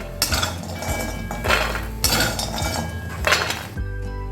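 Metal spoon scraping and clinking against a kadhai as fried soybean chunks are scooped onto a plate, with three bursts of rattling utensil noise close by, then quiet.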